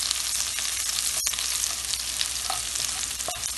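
Curry leaves crackling in hot oil over ginger and garlic for a Kerala-style egg roast, a dense, loud, continuous sizzle with a few sharp pops and stirring scrapes, no talking.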